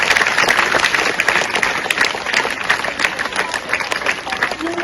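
A school audience claps during a student council election speech, a busy burst of many hands with sharp individual claps, close and fairly loud, with voices mixed in.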